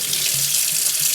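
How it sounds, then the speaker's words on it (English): Cold carbon-filtered water runs from a tap in a steady, close, hissing stream with no voices. "Filtered water is the cold water."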